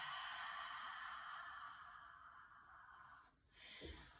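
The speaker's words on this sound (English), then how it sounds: "Exhale out mouth, let it go." A long, steady exhale pushed out through the mouth during a yoga breathing round, a soft breathy hiss held for several seconds before trailing off, close and quiet with no talking.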